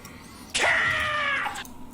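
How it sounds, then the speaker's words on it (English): A cat gives one drawn-out, wavering meow lasting about a second, fairly loud and close, against quiet background noise. "Yes, that was a cat."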